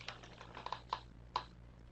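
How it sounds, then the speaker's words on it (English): Several sharp key clicks from typing on a computer keyboard, irregular and sparse, fairly faint over a steady low hum during a webinar. "Somebody's typing."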